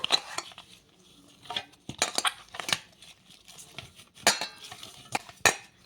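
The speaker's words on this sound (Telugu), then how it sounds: "కొంచెం ఆయిల్ అయితే వేసేసుకొని మళ్ళీ ఒకసారి కలిపేసుకుందాము" Bread dough is mixed with oil in a bowl, giving irregular clinks and scrapes of a utensil against the bowl, close and moderately loud, separated by quiet moments.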